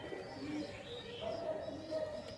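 An imported teddy pigeon coos softly while being held in the hand, giving low, steady, repeated calls with light chirps over a quiet background.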